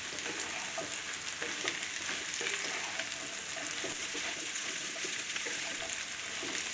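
Sliced ridge gourd wilting in a hot pan, with a steady, dense sizzle and crackle of frying under faint stirring, continuous and close.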